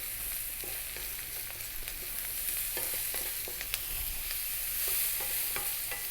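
Broccoli and mushroom cream sauce cooking in a pan, with a continuous soft sizzle and repeated scraping stirs of a utensil across the pan, close and steady, with no talking.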